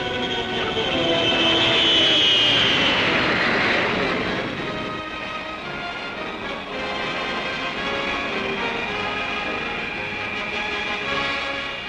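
A McDonnell F-101 Voodoo jet aircraft flies past on a record-setting speed run, a loud, sustained roar that swells near the start and then holds steady and broad, with no voices.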